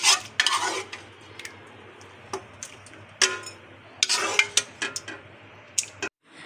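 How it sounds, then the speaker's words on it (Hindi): A hot, freshly cooked tomato mixture for homemade ketchup is scooped from a pan into a pot, with repeated clinks and scrapes of a spoon against metal, some wet slaps and short pauses between strokes. "अभी ये गर्म है और अब हम इसे एक बर्तन में निकाल रहे हैं।"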